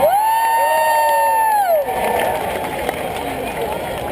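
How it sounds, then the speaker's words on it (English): Crowd cheering and shouting at a pig race, a broad loud roar that carries on steadily under an announcer's voice, with a whistle-like tone early on. "Let's give these guys another big cheer out here."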